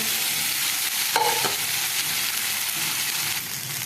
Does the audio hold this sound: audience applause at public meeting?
no